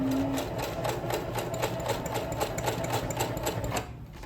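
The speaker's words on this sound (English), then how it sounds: "this is how you're gonna sew your piece on" A sewing machine stitches nylon webbing for a horse halter, a close, steady rapid needle chatter with a faint whine under it that runs evenly, then stops near the end.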